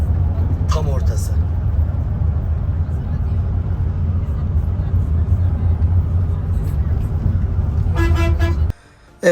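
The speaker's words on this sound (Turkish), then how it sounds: "Evet, arabamız yanaştı." Car pulling up at a boat landing at Vaspurakan on the shore of Lake Van, with a steady road rumble throughout, short horn toots near the start and end, and the engine cutting off at the close.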